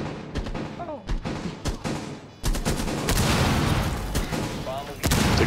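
Gunfire in Rainbow Six Siege bursts out as sharp shots in the opening seconds, then swells into dense, continuous firing with a loud burst near the end, with a player's excited voice over it.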